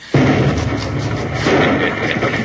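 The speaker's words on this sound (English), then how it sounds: "I'll feel better when I hear that explosion." A sudden dense blast from an old-time radio Western drama, a loud rumbling burst that starts abruptly and rolls on with crackling debris for a couple of seconds.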